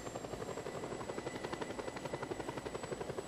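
A helicopter in the Just Cause 2 video game flies steadily, its rotor giving a loud, continuous rhythmic chop with no talk over it.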